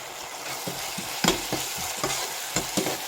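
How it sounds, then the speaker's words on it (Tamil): Masala with fresh mint being stirred in a pan for tomato rice: a continuous soft frying hiss, with a spoon scraping and clacking against the pan in repeated, irregular strokes. "இப்போ போட்டு நல்லாவே கிளறி விட்டுக்கலாம்."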